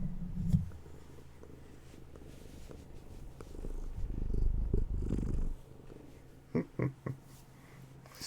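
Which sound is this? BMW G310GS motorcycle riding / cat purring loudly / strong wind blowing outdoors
cat purring loudly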